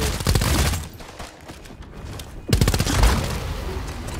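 Dual pistols firing in the video game Bloodhunt, rapid loud bursts of gunfire that fade, pause, then resume in a dense volley.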